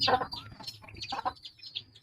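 Chickens on a small farm where ducks are also kept cluck softly in short, scattered calls at a moderate distance.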